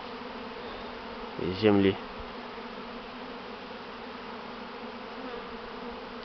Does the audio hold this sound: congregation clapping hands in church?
no